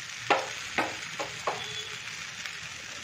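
Rava paniyaram fry in ghee in a pan, with a soft steady sizzle broken by a few sharp crackles and spits, close and without speech.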